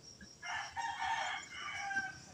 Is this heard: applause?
no